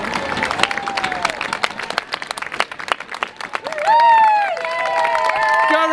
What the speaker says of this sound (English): Give him a big cheer.